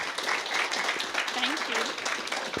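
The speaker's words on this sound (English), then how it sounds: "Can you all give India a round of applause?" Audience applause at a Pint of Science talk in Armidale, a dense steady patter of many hands clapping throughout, with a voice calling out over it.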